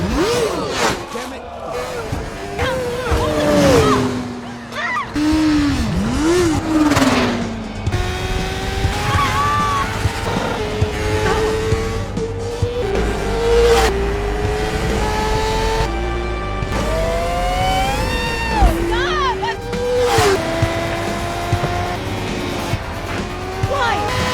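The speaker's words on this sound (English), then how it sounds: "The two hop onto a motorcycle, and Sam drives wildly out of spite because Alex didn't help her sooner" A motorcycle tears along in a frantic movie chase, engine roaring and rising and falling under loud, continuous music and shouted voices, with squealing, skidding tires breaking through throughout.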